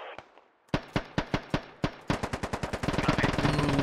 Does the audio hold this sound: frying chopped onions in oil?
no